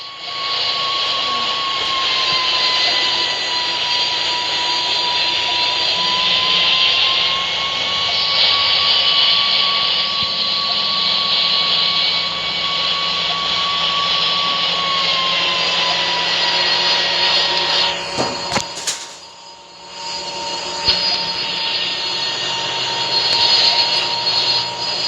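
In a flight video game, jet airliner engines whine steadily with a shifting tone as the plane comes in to land on an aircraft carrier. A brief clatter breaks through the drone toward the end.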